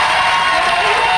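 A studio audience on a French television talk show bursts into lively applause and cheering, steady and full throughout the brief moment.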